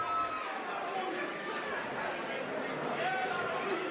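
Packed crowd at Mansfield Tavern cheering for fighter Jimo Rangi after a fight win, a steady dense roar of voices and chatter that holds at a loud level throughout.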